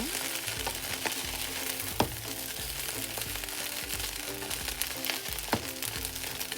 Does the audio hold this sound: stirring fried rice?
yes